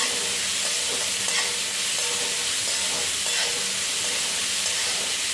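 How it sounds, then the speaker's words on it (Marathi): Chopped onion sautés and sizzles in a pan for a wild-greens vegetable dish while a spoon stirs it, a loud, steady frying hiss with scraping strokes, close up and without speech. "कांदा जरा परतून घ्यायचा लालसर असा"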